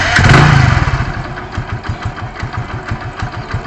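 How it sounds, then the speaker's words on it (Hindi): A motorcycle starts with a brief loud burst, then settles into a steady, close idle around 700 rpm with even, low, chugging engine pulses while it stands still. "देखिए ये मैंने बाइक को स्टार्ट किया, ये अभी नॉर्मल है, गाड़ी खड़ी है"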